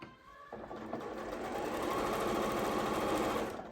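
A sewing machine stitches the side seam of a fabric gift bag, its motor starting up and running into a steady rapid whirring drone, close and clear with no talk.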